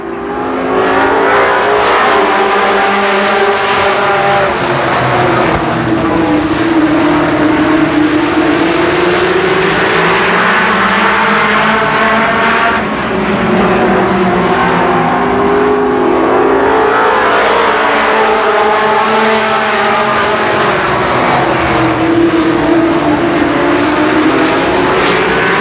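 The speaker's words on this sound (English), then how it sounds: "Racing laps." Race cars lap Columbus Motor Speedway in 1990, engines roaring loud and continuous as the pack passes and swells, a sustained howl rising and falling over about twenty-five seconds, with no talk.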